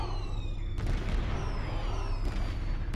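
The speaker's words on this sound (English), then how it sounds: "Yep, fireworks." Fireworks burst in the Star Trek Online game, with two sharp cracks followed by crackling, fizzing trails over a dense, rumbling background of game sound.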